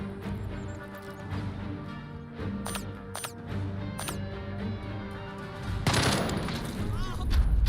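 Gunfire during a Jagged Alliance 3 firefight: a few sharp shots, then a burst near the end, under game music and ambience, with speech.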